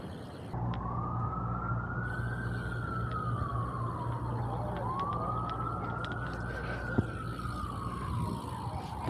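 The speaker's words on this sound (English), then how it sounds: "There's always some sort of siren going off" An emergency siren wails on a New York City street, rising and falling in two long, slow sweeps. It sounds moderately distant, layered over steady traffic rumble.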